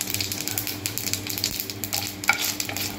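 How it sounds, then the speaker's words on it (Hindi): Dried red chillies crackle and sizzle in hot tempering oil for a dahi baigan dish, a busy, close frying hiss with small pops and a clink or two of a utensil. "उसके बाद ये सूखी लाल मिर्च डालेंगे"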